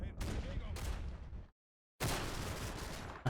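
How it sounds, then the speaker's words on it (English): Gunfire in the Combat Mission: Battle for Normandy war game sounds as dense bursts of loud cracks and rumble, cut by a brief silence before another heavy burst resumes. "Where did those shots come from?"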